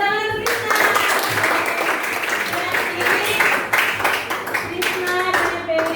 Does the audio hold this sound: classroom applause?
yes